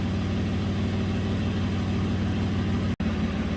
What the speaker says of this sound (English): both catalysts are leaking, they're rusted through. That's what the exhaust leak is.